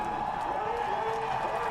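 Crowd roaring at the Charlotte Roval NASCAR road-course race as winner Ryan Blaney climbs from his car, a steady broad wash of distant cheering and applause with no single voice standing out.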